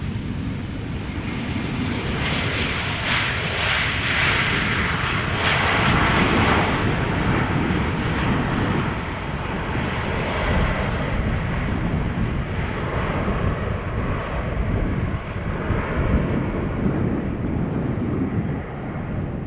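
Large airliners taxi at Amsterdam Schiphol Airport, where A340, A380 and B747 jets are expected, producing a steady, loud jet engine roar that swells and drifts throughout with wind buffeting and no voices.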